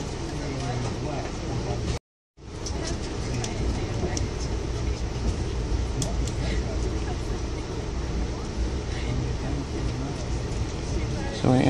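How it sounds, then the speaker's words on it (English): Interior rumble of an Amtrak Carolinian passenger train under way after leaving Raleigh, a loud steady roar with faint rattles and clicks, briefly interrupted by a split second of silence. "So my Amtrak Carolina train has departed Raleigh downtown Amtrak station."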